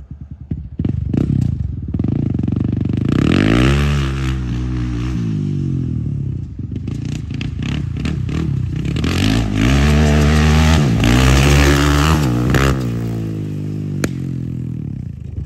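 A rebuilt Honda 400EX ATV with a 400cc big bore kit runs loud and close, revving repeatedly in uneven bursts with clattery, rough engine tone between throttle blips.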